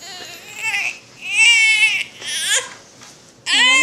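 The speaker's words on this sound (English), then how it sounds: "Don't cry now." A baby girl cries in short, rising wails separated by brief pauses, close and loud, with the last cry bursting out strongly at the end.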